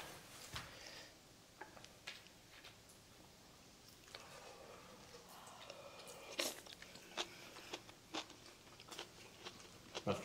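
Close, faint chewing and crunchy bites of a Korean home meal of tuna kimchi stew, coming in irregular clicks and soft crunches over about ten seconds, with no talking.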